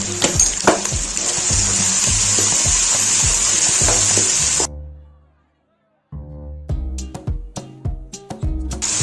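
Green chilies, garlic, ginger and whole cumin seeds sizzling in hot oil, a loud steady hiss that cuts out abruptly, then resumes with clattering stirring sounds.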